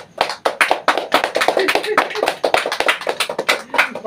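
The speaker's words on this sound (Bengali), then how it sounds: "হাততালি, আরো জোরে হাততালি দাও সবাই মিলে।" Several people clap their hands at a home anniversary celebration, bursts of sharp, close claps in an uneven rhythm, with excited voices mixed in.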